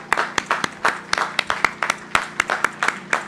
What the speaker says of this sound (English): Parents, families, friends, on your feet and get a round of applause.